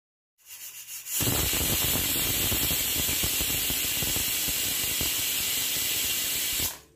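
A pressure cooker of moong dal lets off steam: after a brief rising puff, a loud, steady hiss runs for about five and a half seconds, then cuts off abruptly.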